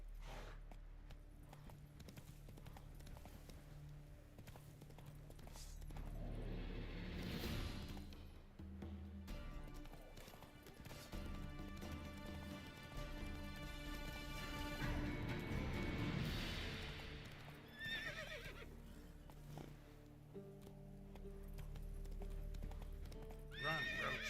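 A horse gallops in The Witcher 3: Wild Hunt, its hoofbeats clip-clopping in a fast, steady rhythm close by, broken by a loud neigh, all set against a continuous game soundtrack.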